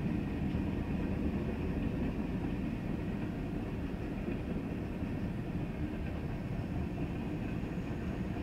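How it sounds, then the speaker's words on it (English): Freight train hauling gondola cars loaded with scrap metal rolls steadily past at close range, a continuous loud low rumble and clatter of wheels on rail with no break throughout. "The camera's, the phone's camera's picking up the train's vibration."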